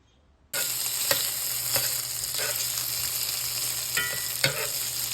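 Thinly sliced peppers for pepper steak sizzle steadily in a hot pan after a brief silence, with occasional scraping clicks of a utensil stirring them, close and continuous.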